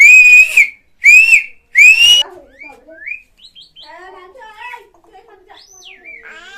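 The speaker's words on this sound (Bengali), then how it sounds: "পাখি সিটি দাও তো দেখি।" A pet myna, a talking shalik, lets out three loud, clear whistles close by, each a short rising note, then trails into softer chirps, warbles and squeaky calls.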